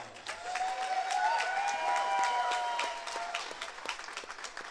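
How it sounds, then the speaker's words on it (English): A crowd applauds both fighters after a combat-sports bout, a continuous spread of clapping heard at moderate distance under a sustained tonal hum and faint background noise. "let's give both fighters a big round of applause"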